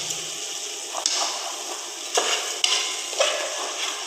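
Chicken biryani gravy sizzles in a pan after lemon juice goes in, a constant hiss broken by a few sharp scraping stirs of a spoon, close and clear with no talking.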